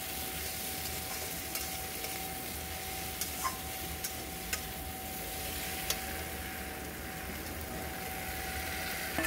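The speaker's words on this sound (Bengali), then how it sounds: "সবকটা উপকরণ খুব ভালো করে এই সবজিগুলোর সঙ্গে মিশিয়ে নিয়ে কিছুক্ষণ আমি কষিয়ে নেব।" Vegetables for a prawn and Malabar spinach dish sautéing with Kashmiri chili and turmeric powder, a continuous soft sizzle with occasional light stirring clicks.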